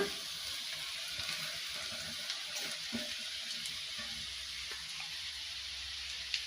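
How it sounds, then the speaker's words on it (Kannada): Drumstick leaves sizzle in hot oil in a pan with fried onions, a steady close hiss running the whole time with a few small crackles and pops. "ಇದನ್ನು ಹಾಕ್ಕೊಂಡು ಚೆನ್ನಾಗಿ ಹುರ್ಕೊಳ್ಬೇಕು ನೀರೇನೂ ಹಾಕೋದು ಬೇಡ ಆ ಎಣ್ಣೆನಾಗೆ ಚೆನ್ನಾಗಿ ಹುರ್ಕೋಬೇಕು"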